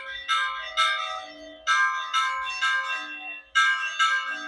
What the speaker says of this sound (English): the bells are ringing out for the start of the fiestas up here